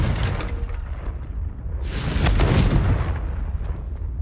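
A Confringo fire spell bursts in Hogwarts Legacy: a loud, rumbling explosion with a roaring, crackling blast that swells partway through and then decays, close and heavy, with no voices over it.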